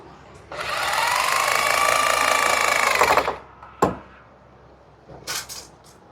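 A hammer drill whirs loudly and steadily for about three seconds as it bores into concrete, then cuts off, followed by a few scattered knocks and rattles.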